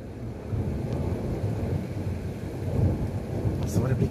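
Thunder rumbles after a nearby lightning strike during a summer thunderstorm, a low rolling boom swelling over steady rain and light wind, heard from indoors near a window.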